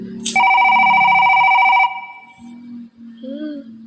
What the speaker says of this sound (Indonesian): Siapa ini sih yang nelpon?